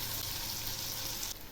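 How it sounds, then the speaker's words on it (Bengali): Potatoes frying in a pan with salt and turmeric, a loud dense sizzle filling the whole moment up close, easing slightly at the end, no talk. "আলু ভাজা প্রায় হয়ে আসছে।"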